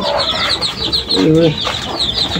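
Hen kept with her chicks in a cage: a near, fairly loud low cluck rises briefly amid a continuous high chirping chatter, all within a couple of seconds.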